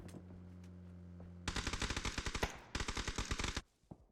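Rapid automatic gunfire in a PUBG match: two long bursts of sharp, evenly spaced shots, the first starting after a quieter lead-in with a faint hum, the second breaking off abruptly near the end.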